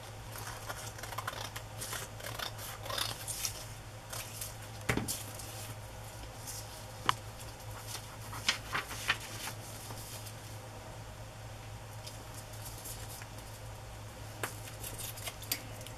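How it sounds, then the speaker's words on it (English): Scissors cut a narrow strip of decorated digital paper for an autumn journal, making soft, scattered snips and light paper rustles, quiet and close, with no talking. "rather than try to tear this, because it is so narrow, I'm just going to cut it"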